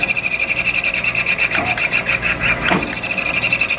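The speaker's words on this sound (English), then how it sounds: "Let the spindle almost coast to a stop. While it's coasting to a stop, you can slowly feed it up in there a little bit further." A machine spindle coasting down while the cut is slowly fed further into a workpiece wall: a steady close whirring and rubbing with a rapid rhythmic pulse and a high ringing tone, with a brief scrape near the end.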